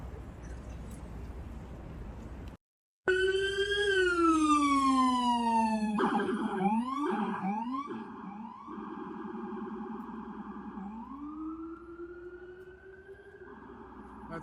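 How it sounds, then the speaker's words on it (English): An emergency vehicle siren on a street in Dumbo, Brooklyn, near the Manhattan Bridge overpass, blares loud and close after a brief gap, first a long falling wail, then quick yelping bursts, then a rising steady wail. "That's their new siren configuration."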